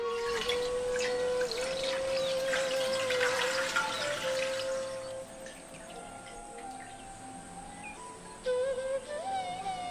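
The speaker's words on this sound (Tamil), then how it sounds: "இப்ப மேல இருக்க தண்ணியை மட்டும் வடிச்சு எடுத்துருவோம்" Water is poured off settled homemade maida flour, giving a steady trickling, splashing stream close by, with a faint tonal hum running underneath and birds audible in the background.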